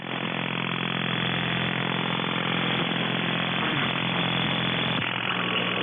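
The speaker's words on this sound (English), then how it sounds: "that noise sounds like a British motorcycle" A steady, rumbling British motorcycle engine runs continuously at close range, heard over radio, holding an even, throaty drone with a slight shift near the end.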